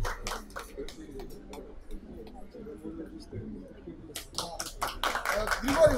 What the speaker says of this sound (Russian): под аплодисменты.